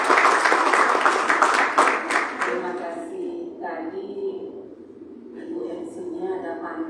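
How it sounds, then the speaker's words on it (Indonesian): Audience applause at a PRSSNI Bali regional radio association meeting, dense clapping for about three seconds that fades into a hall where a voice speaks over light residual clapping. "Tepuk tangan dulu"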